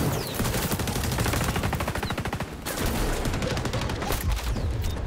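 Video game gunfire rattles in dense, rapid machine-gun bursts, loud and close, with a brief break midway before the firing resumes.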